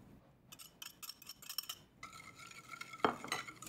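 Egg yolks being stirred into a chocolate mixture in a bowl, a utensil scraping and clinking against the dish in quick, uneven strokes, close and fairly quiet.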